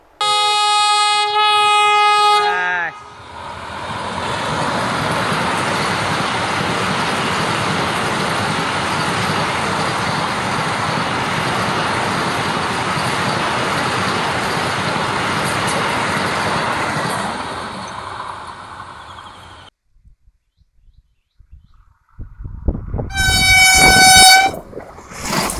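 A Konkan Railway train sounds its loud horn, then roars past close by in a long steady rumble of wheels and carriages before fading, followed by another blast of the horn.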